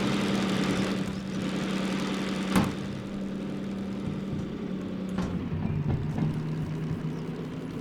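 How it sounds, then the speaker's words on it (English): DM3 diesel locomotive in Derail Valley, its engine revving high: a steady, loud low drone with a sharp knock just before three seconds and clunking contacts near the end. "she was revving pretty high there"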